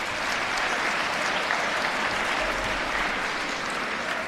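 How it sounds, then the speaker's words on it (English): Students and guests at a school award ceremony for Dr. Martin Luther King, Jr. applaud the juniors with loud, sustained clapping from a large crowd in a hall, steady throughout with no voice rising above it. "Let's clap it up for our juniors."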